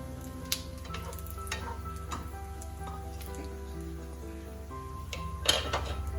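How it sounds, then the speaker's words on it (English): Soft, steady sizzling of food in hot oil with faint crackles and ticks, a couple of sharper pops standing out, no voices. "So when it sizzles like this, it means it's done."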